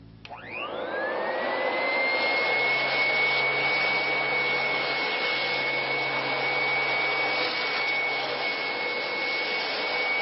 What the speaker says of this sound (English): designed the HVS-3, the Rolls-Royce in the world of vacuum cleaners